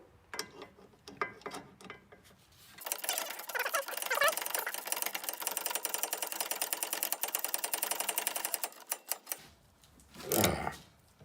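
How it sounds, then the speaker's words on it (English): A 17 mm ratcheting wrench tightens a sway bar end link on a car, a quick close run of dense mechanical clicking lasting several seconds, set between softer taps and handling noises. "we're going to take our 17 millimeter ratcheting wrench and tighten it up"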